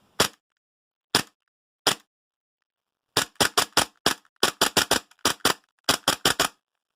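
A Tokyo Marui HK45 gas blowback airsoft pistol dry-fired without BBs: three spaced single shots, then a rapid string of about fifteen sharp cracks in quick bursts, loud and close with silence between.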